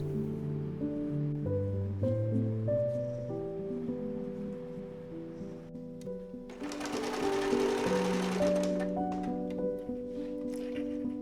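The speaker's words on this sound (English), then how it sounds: "I had to hem the sides and sew" A sewing machine stitches an elastic strip onto a bandana in short runs, then in a denser burst midway, with a soft mechanical whir close by. Gentle instrumental music plays throughout and no one speaks.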